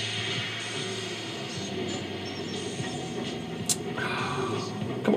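Oil train rolling along the tracks in the Sid Meier's Railroads! video game, a steady rumble with faint clickety-clack and hiss, with a brief sharp click near the end.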